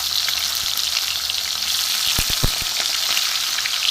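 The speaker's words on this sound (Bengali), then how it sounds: "ভোলা মাছগুলো উল্টে পাল্টে একটু ভেজে নেবো ভালো করে।" Pieces of bhola fish frying crisply in a pan, a dense, steady sizzle and crackle with a quick cluster of sharp pops and taps midway as the fish is turned.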